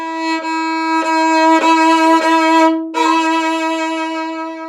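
Solo violin plays six quarter notes, the first short and the rest sustained, growing gradually louder. The bowed tone is close and clear, with no talk.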